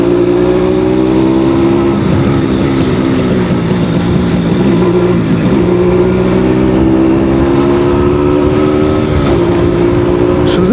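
A Suzuki AX100 motorcycle engine idles and runs loudly up close, a steady droning hum that rises and falls slightly with the throttle, no speech.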